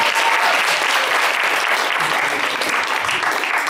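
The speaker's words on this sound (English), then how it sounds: "Nick, everyone big round of applause for Nick." Audience at a magic open mic applauds a volunteer from the crowd, a dense, steady burst of clapping that stays loud and even throughout with no voices over it.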